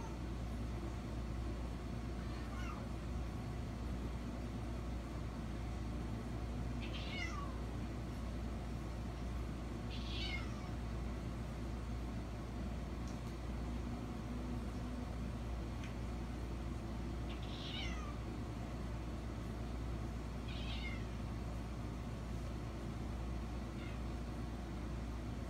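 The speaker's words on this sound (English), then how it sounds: "I think it's just the cats meowing again" Strained, unusual meows from a three-legged cat recorded near midnight, several separate calls spaced a few seconds apart over a constant low background hum, faint and somewhat distant, with no talking.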